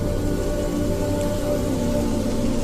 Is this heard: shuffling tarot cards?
no